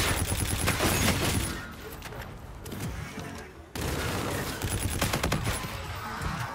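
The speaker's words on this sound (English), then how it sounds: "Friendly bombardment incoming" Friendly bombardment airstrike in a shooter video game: dense, loud bursts of gunfire and blasts rattle through the opening, ease into a quieter stretch, then return as heavy barrages of impacts.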